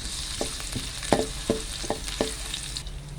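Garlic frying in a pan of hot oil with onion, a steady sizzling hiss broken by sharp crackles and pops at close range, with no voices.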